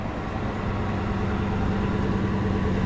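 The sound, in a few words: bus engine idling with full exhaust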